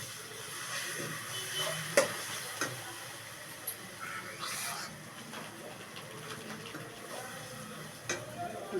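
Cashew, poppy seed and fennel paste frying in a pan for doi katla fish curry: a steady, faint hissing sizzle, close by, with scattered small pops and clicks throughout.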